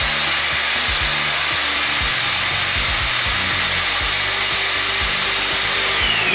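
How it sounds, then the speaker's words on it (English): A loud, steady motor roar with a broad hissing whine runs continuously throughout, close and unbroken, from the vacuum of a Flowbee hair-cutting attachment, not its blades. "you see it gets really loud. That was the vacuum, that was not the blades."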